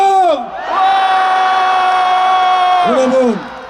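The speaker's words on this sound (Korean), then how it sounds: "전방을 향해 함성!" A crowd at a patriotic political rally lets out a loud, sustained roar of shouting and cheering that swells and holds for about two seconds before dropping away.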